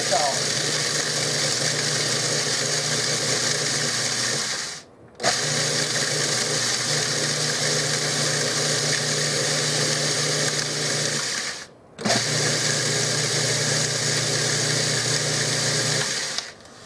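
Stale bread ends are ground into crumbs in a food processor: three loud, steady whirring motor runs, each stopping abruptly before the next starts, close and dominating throughout.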